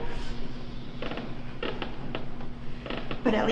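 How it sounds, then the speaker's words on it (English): Floor creaking at a squeaky spot during a home workout, a few short creaks and taps spaced through the moment over a steady low hum, fairly quiet and near, with no talk. "I'm on a squeaky spot on the floor."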